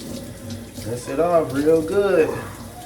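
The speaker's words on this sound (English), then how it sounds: "And then you just rinse it off real good." Jewelry is rinsed under a running tap, water splashing steadily into the sink while someone talks over it in bursts.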